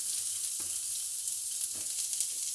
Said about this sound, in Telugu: కొద్దిగా ఫ్రై అవనివ్వాలి.